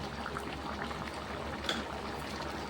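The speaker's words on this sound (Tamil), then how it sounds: "மிதமான தீயிலே மீடியம் ஃப்ளேமில் இதை கொதிக்க வைக்கலாம்" A pot of tomato kootu bubbles steadily on a medium flame, a soft, continuous simmering fizz, quiet and close with no voices.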